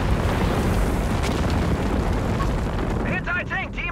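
Stuka rocket artillery slamming down in Company of Heroes 3 gives a continuous, heavy, rumbling roar of explosions, with a voice briefly talking at the end.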